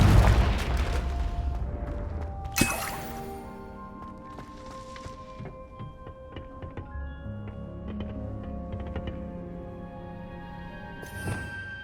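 A Confringo fire spell goes off in Hogwarts Legacy, opening with a deep booming blast and a sharp crack, then dying away under a scatter of light clicks and soft tonal tail.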